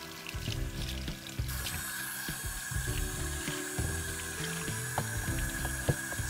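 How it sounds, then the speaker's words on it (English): Water gushes from a tap over gunk-coated ceramic rings from an aquarium filter, a steady close hiss starting partway in, with clattering and rattling of the rings as they are rinsed. "So yeah, let's just rinse it all off."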